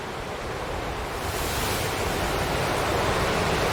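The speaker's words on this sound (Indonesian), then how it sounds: "ombaknya tidak seperti biasa ya" Ocean waves break on the shore in a steady, broad wash of surf that grows slightly louder over a few seconds, with no voices.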